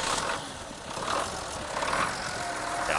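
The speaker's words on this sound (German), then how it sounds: "Der Motor klingt ganz gut." A Belarus 1221.3 tractor in Farming Simulator 19 idles with a steady, rumbling diesel drone that swells slightly at moments, heard alone without talk.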